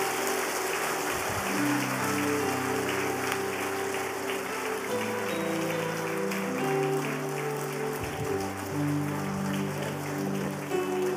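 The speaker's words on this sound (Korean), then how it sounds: "우리 뜨거운 박수로 그동안 노고에 감사하십시다" A church congregation claps for honoured elders during a Sunday service, a steady continuous patter of applause heard under loud sustained organ chords.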